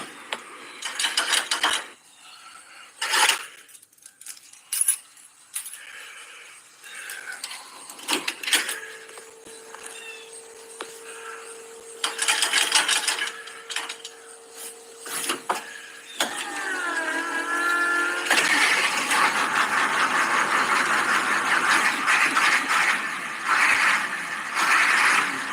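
Ford 7.3 liter IDI non-turbo diesel engine starting: scattered mechanical clunks and clicks, a long steady electrical tone, a laboring crank, then the engine catches into a continuous, rough, clattering idle that holds loud through the end.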